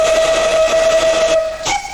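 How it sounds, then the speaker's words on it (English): A loud, steady steam locomotive whistle, a Great Western Castle whistle on the Talyllyn Railway, blows a sustained high tone, then cuts off briefly before a short final toot. "number 4 has a pair of Great Western Castle whistles"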